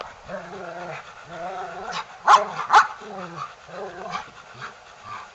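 A large 9.5-year-old rottweiler panting and making low whiny vocalizations, with two sharper bark-like bursts in the middle, close to the microphone.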